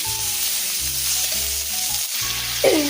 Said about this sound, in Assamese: বিলাহীখিনি গলি নোযোৱালৈকে মই ভাজি ল'ম।